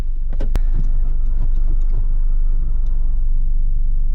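A modified Acura RSX drives with a loud, steady low engine rumble, a few sharp mechanical clicks and thumps near the start, the tone staying fairly even rather than climbing sharply.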